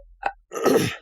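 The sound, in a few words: sneeze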